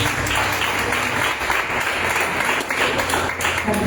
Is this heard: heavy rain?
no